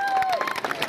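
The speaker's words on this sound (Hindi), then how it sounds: "जोरदार ताली बजा मोदी जी के लिए।" Crowd at a political rally in Chhindwara bursts into dense clapping and cheering, a loud, close wash of applause with a brief whistle-like tone at the start.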